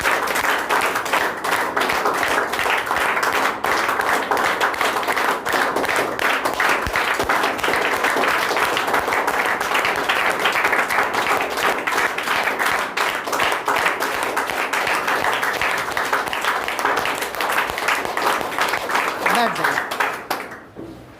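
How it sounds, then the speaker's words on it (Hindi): A standing audience at a Teacher's Day celebration at Medico Gurukul claps loudly and continuously in a dense, rapid patter that holds steady for about twenty seconds before tapering off at the end. "फिर से ताली बजाइए।"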